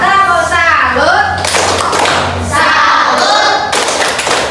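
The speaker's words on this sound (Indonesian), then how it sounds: "sekarang kita beri tepuk tangan dulu untuk kelompok Norma Kesusilaan. Tepuk salut." Primary school children in a classroom perform a rhythmic clapping routine, producing sharp claps and thuds in patterned bursts mixed with their loud chanting voices.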